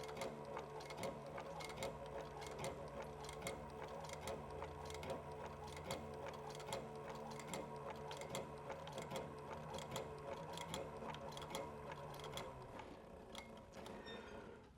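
A sewing machine stitching across the bottom of a leather dopp kit, running steadily and up close with rapid, even mechanical clatter for about fourteen seconds before slowing at the end.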